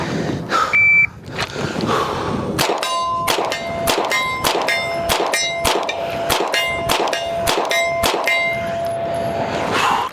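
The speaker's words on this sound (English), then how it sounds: "I'm gonna try to shoot 10 rounds from 40 yards in under 10 seconds" A Sig P320 Spectre Comp pistol fired ten times in rapid succession at 40 yards, each sharp report followed by a ringing metallic clang from steel targets, loud and evenly spaced across about eight seconds.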